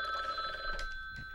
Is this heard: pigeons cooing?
no